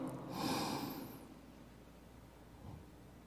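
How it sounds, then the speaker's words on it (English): A single deep breath, a strong airy inhale swelling early and fading into a soft, slow exhale, close and quiet with no talking. "take 3 deep breaths with me"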